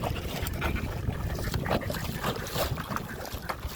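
Strong wind buffets a small wooden dinghy on the Bidyadhari River in the Sundarbans, with steady broadband wind noise and water sloshing against the hull throughout, no talking.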